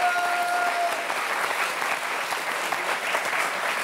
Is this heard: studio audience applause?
yes